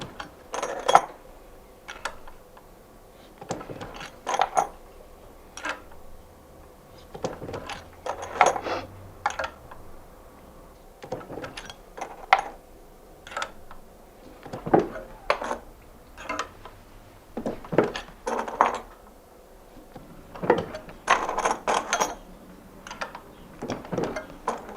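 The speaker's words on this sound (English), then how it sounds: "At the hand spindle press called a knipper in local dialect, Günther marks where holes will be drilled" A hand spindle press (knipper) marking scissor blades gives sharp metallic clanks and clinks at irregular intervals a few seconds apart, close by, with quiet workshop hum between strikes.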